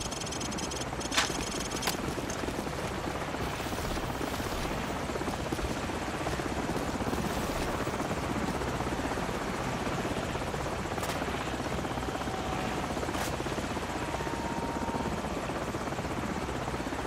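Helicopter in Call of Duty 4: Modern Warfare, a loud steady rotor drone throughout, with a few sharp clicks and thuds over it, no talking.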